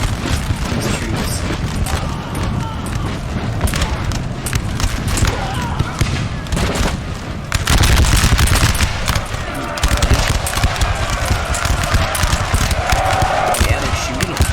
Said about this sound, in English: Yeah, they're shooting.